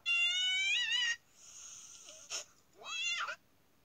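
A cat gives two drawn-out, wavering meows with a quieter breathy hiss and a brief scuffle between them, close and fairly loud with no talking.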